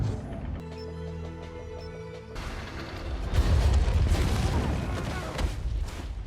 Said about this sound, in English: The explosion that follows knocks Yelena unconscious